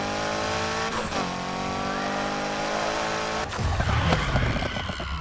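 Car drifting with tire squeal in the Need for Speed Heat racing game, a steady engine drone with sliding, squealing tires that turn rougher and louder in the last couple of seconds, with no talking.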